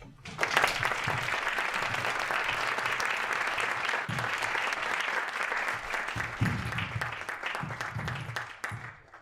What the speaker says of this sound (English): Let us welcome Professor Immanuel Wallerstein with a warm round of applause